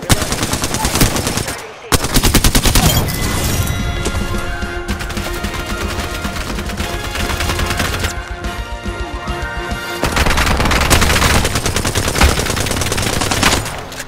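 Rapid automatic gunfire in the Apex Legends video game, long loud bursts of close shots with a brief pause early on, dense and sustained over game sounds.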